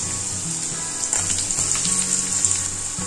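Onion sautéing in a pan with curry leaves, asafoetida and green chili, giving a bright continuous sizzle at close range, with light scraping and bubbling beneath it and no talking.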